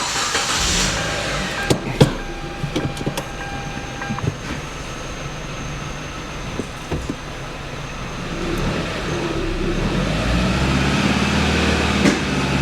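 A 1991 Plymouth Colt Vista with a 4G63 Mitsubishi engine rolls along while being pulled in by another vehicle, giving a steady low rumble with scattered clunks and creaks, nearby and with no talk.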